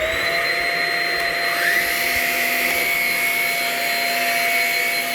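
A Shark Rocket vacuum cleaner runs steadily and loudly throughout, with a constant high-pitched motor whine and airflow roar that shifts slightly in pitch as it moves, with no talking.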